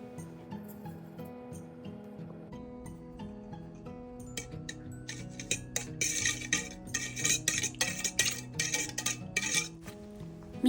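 A spoon stirring a sugar and yeast mixture in a bowl, steady rapid clinking and scraping against the bowl over soft background music.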